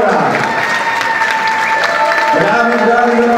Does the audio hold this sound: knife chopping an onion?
no